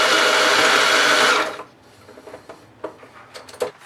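A sewing machine runs a steady, loud stitching burst for about a second and a half, adding a line of stitches along elastic in a backpack's water bottle side pocket, then stops and leaves quieter handling clicks.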